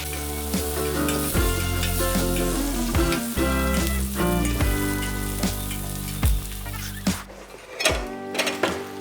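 Hash browns fry on a Blackstone griddle in bacon fat, giving a steady close sizzle with crackles over a constant tonal background and no talk.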